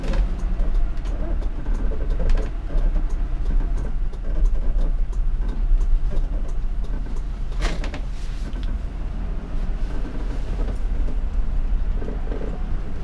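A Thor Daybreak 28PD motorhome rumbles slowly through a tight U-turn, a steady low engine and road drone heard from inside with faint rattles and creaks over it.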